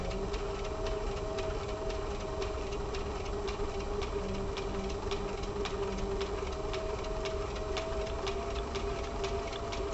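A sewing machine runs forward stitching along the seam edge of a crossbody bag, a steady, fast mechanical whir with regular needle ticks throughout, close and continuous, with no voices.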